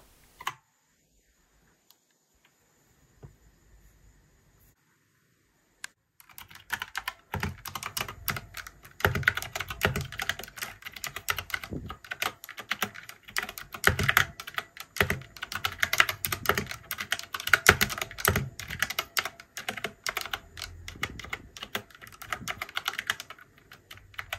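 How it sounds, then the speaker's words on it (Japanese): A keyboard fitted with handmade UV resin keycaps containing dried flowers is typed on steadily, producing rapid, close clicking and clacking keystrokes after a few seconds of near silence broken by single taps. "しっかり打てるか、えタイピングしていきます"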